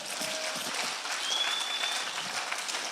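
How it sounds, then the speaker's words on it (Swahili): A church congregation applauding together, a dense sustained clapping that stays fairly even for the whole stretch. "Simpigie Yesu makofi."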